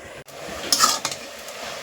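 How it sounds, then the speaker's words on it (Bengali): A lid is set back onto a cooking pot of vegetarian ash gourd curry with soaked chickpeas, giving a brief metallic clink and a couple of light rattles at close range in a quiet kitchen. "আবারও চাপা দিয়ে দিচ্ছি"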